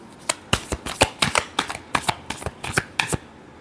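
Tarot cards being shuffled during a Taurus reading, a quick run of crisp riffling slaps and flicks in an irregular rhythm, close and clear with no talking.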